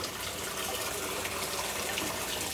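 A steady, even rush of cold water pouring into a washing machine that had sat unused for five months, constant and fairly close with no pauses.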